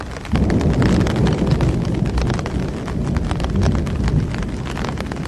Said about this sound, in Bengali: বাহিরে বেশ ঝমঝম বৃষ্টি, চারদিক কাদা দিয়ে মাখামাখি অবস্থা